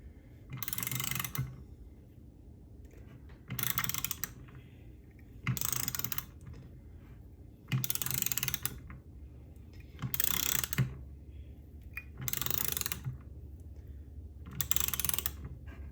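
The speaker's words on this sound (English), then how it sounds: "take your torque wrench, make sure it's set." A torque wrench ratchets on bolts during a 4L60E transmission rebuild, sounding as seven evenly spaced bursts of loud ratcheting clicks, each roughly a second long, over a low steady hum.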